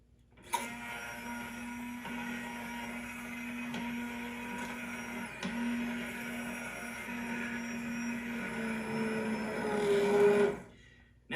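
A blender pureeing potato soup gives a steady motor whine with a low hum, running continuously, rising slightly in pitch near the end before cutting off abruptly.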